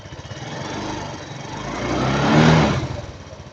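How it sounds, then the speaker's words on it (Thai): A Suzuki Jelato motorcycle with a no-start fault has its engine revved up and then eased off, a steady idle swelling into a louder rev near the end before dropping back, heard close with no talk. "ทีนี้ลองเร่งเครื่องแล้วก็ผ่อน"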